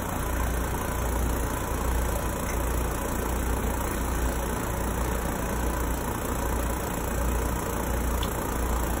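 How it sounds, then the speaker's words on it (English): A laboratory vacuum pump runs for Buchner funnel filtration, giving a steady, unbroken mechanical hum with a low drone and high-pitched whine that stays constant throughout, with no talking. "we'll turn on the pump"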